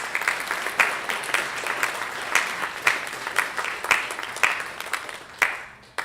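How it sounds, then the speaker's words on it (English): An audience applauds two speakers at a community gathering with a steady, fairly close round of many hands clapping, with a few louder claps standing out, before it tapers off at the end. "Let's give them another round of applause."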